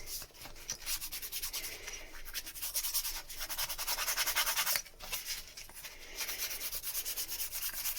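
A blunt blade scrapes steadily back and forth across a surface, close and continuous, making a gritty rasping rhythm with no voices.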